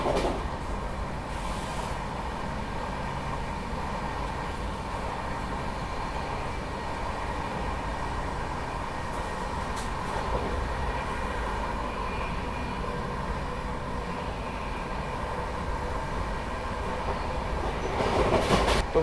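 A Sealdah Duronto express train rumbles along steadily at speed, a continuous loud roar with rail noise that swells slightly toward the end as it overtakes the Howrah–New Delhi special train alongside.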